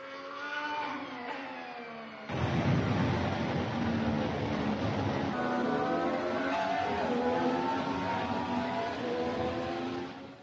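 A McLaren Formula One car roars during pre-season testing, a loud high-pitched engine whine whose tone climbs and shifts through gear changes as it passes, continuing for about eight seconds after a quieter lead-in.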